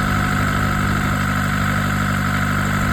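A BMC engine runs on a bench test, a loud, steady idle with a throbbing low rumble and even mechanical clatter throughout, no voices.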